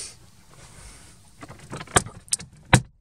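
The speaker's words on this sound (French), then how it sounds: "On a la petite boîte à gants qui peut être fermée grâce à la clé de la voiture" Metallic key jangles and a few sharp clicks and clunks sound as a car key locks the small glove box of a 1980s Volkswagen Passat B2, close and quiet, with no talking.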